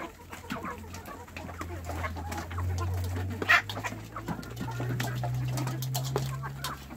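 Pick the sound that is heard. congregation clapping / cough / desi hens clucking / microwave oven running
desi hens clucking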